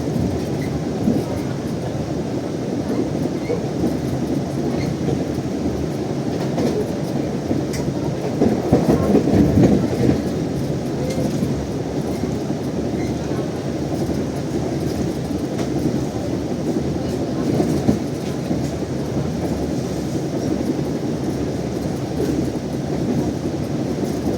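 Steady rumble of the Gumarang train running on rails, with rhythmic clicking from the wheels and a brief louder surge midway, heard from inside a stainless steel economy carriage.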